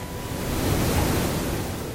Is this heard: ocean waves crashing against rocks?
yes